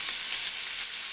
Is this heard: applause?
no